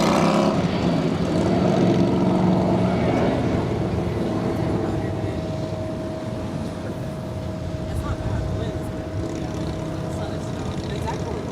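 An American Airlines Airbus A319 takes off at Los Angeles International Airport: a steady, broad jet roar that holds loud throughout, with a faint sustained tone running through it.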